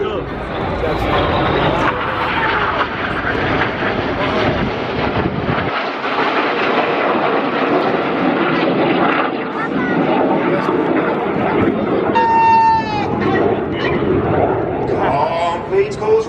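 Red Arrows jet aircraft flying formation aerobatics, a corkscrew roll at the MCAS Miramar Air Show 2019: a continuous loud broad jet roar over the whole stretch, with a commentator's voice and crowd noise mixed in.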